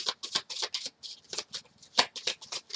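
Lenormand cards being shuffled and cut by hand for a small tarot-style spread, a run of crisp riffling bursts and soft slaps close to the microphone, with brief pauses between strokes.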